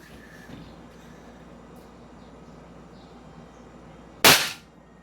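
A single sharp report from a non-lethal Beretta pistol fired into layered cardboard, loud and abrupt with a brief decay, after a few seconds of quiet room tone.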